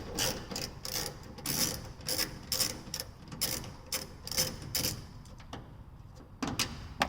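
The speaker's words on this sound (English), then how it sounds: "Takes a 10 millimeter, remove the two bolts." A 10 mm ratchet clicks rapidly in repeated bursts while loosening the tail light bolts on a Toyota Tacoma, close and clear with brief pauses between runs of clicks.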